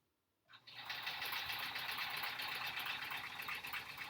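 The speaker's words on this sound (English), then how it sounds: "I'm concentrating on sewing a straight line here a little bit more than usual" Sewing machine stitching quilt-as-you-go sampler blocks, starting after a brief silence and then running steadily at close range with a fast, even mechanical whir.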